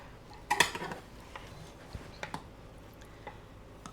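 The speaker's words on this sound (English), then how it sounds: "Now we're going to slice us a piece." Metal utensils cut and scrape through a homemade Southern apple cobbler in a dish, with a clear clink early on, then softer scattered taps and scrapes.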